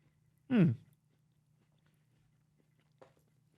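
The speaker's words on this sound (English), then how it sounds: "that was a big bite" A single loud, close crunch of biting into a Crumbl chocolate chip cookie, then near silence with one faint small sound near the end.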